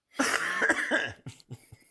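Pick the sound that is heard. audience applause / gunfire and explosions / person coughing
person coughing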